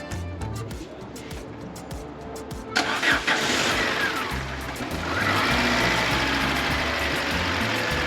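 A car engine cranks, catches and starts, then runs and revs up, a close mechanical rumble that grows louder and rougher. Voices can be heard faintly beneath it.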